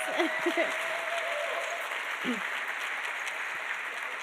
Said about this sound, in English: If we can give her another big round of applause.